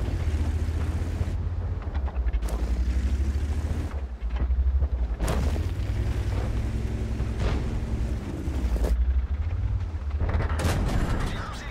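Tank cannon fire in the World of Tanks video game, heavy booming blasts through a turret, several loud thumping shots with rumbling low-end carried over a continuous dense battle din.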